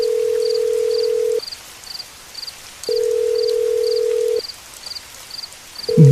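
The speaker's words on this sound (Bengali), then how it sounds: "প্রতিবারই ফোনটা বেজে বেজে কেটে গেল।" In a cartoon on a rainy night, a phone rings unanswered as an electronic ringback tone. Long, even beeps repeat with pauses between them, while a faint rhythmic chirping carries on underneath.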